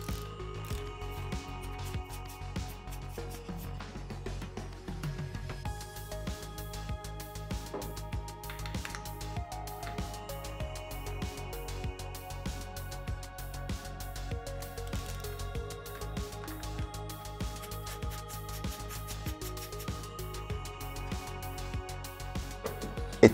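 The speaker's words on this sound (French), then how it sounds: "avec une clé plate ou une douille de 19, on vient dévisser les deux écrous borgnes à gauche et à droite de la roue avant." A 19 mm socket or flat wrench loosening the front-wheel cap nuts on a Wayscral Kickway E1 electric scooter gives steady, quiet ratcheting clicks that run on for many seconds in a close, otherwise calm space.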